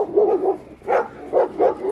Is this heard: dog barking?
yes